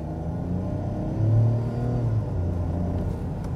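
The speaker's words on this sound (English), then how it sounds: "Yeah, it has a lot of grunt, this engine." A 2021 Ford Bronco Sport Big Bend's engine pulls from inside the cabin, a low steady rumble that swells into a firmer growl for a second or so before settling back to a smooth cruising hum.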